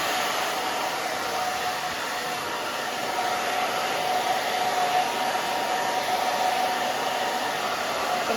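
A hair dryer blows steadily and loudly close by while short pixie-cut hair with long bangs is dried, a continuous airy whoosh with no talk.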